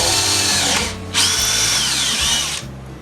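A power drill runs loudly while drilling a Quietbore 22 suppressor part in a drill fixture, cuts out for a moment, then whines back up and spins steadily again.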